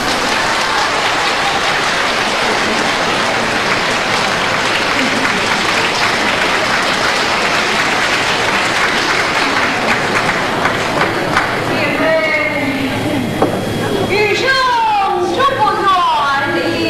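Warm audience applause greeting two Yue opera singers at a 1988 stage performance, a dense sustained roar of clapping that fades near the end as a voice and instruments begin.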